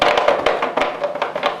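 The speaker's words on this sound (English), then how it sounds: "We were all mesmerized by the footsteps" Footsteps sound effect of tiptoe-like, quick light taps in an uneven rhythm, about a dozen crisp close steps over under two seconds with no voices.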